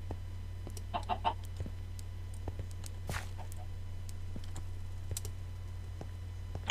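Chickens clucking in the video game Minecraft, a few soft clucks near the start over a quiet background with scattered clicks and keyboard typing.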